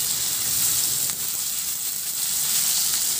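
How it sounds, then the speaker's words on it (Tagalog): Tomatoes sizzle steadily in a frying pan, a continuous close hiss with a few soft stirring scrapes, no voices. "Ihalo lang din hanggang sa maluto yung kamatis"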